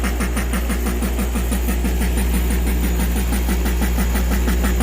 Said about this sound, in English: And now we're generating pressure. This is a DIY air compressor right here.